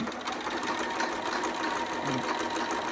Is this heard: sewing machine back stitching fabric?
yes